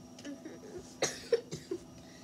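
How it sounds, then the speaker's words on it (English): A person coughs several times in short, sharp bursts during a Super Mario Maker play session, close to the microphone over a faint background. "that was just me coughing"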